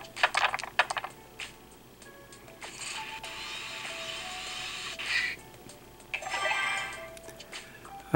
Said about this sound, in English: Just going to roll the dice right at first.